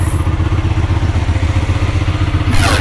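A Mirage 250cc custom motorcycle runs its engine steadily and loudly up close, with a continuous low rumble and a brighter burst toward the end.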